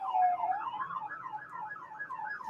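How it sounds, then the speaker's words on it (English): An emergency vehicle siren wails past on the road beside an office, its rising and falling tone sweeping steadily at moderate distance, no voices over it. "Apologize for the siren."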